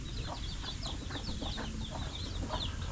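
Chicks and chickens cluck and peep close by in a farmyard, a busy run of overlapping soft clucks and high chirps over a steady background.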